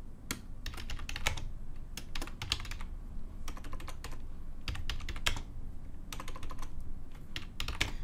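Typing on a computer keyboard, with bursts of crisp, close key clicks separated by short pauses throughout, no voices.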